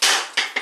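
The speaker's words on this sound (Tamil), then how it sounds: "தேங்காய் தேங்காய் உடைங்க." A coconut cracked open during a Tamil household ritual: three sharp hard knocks, the first loudest, each with a brief ringing crack, spaced about a third of a second apart, close and alone.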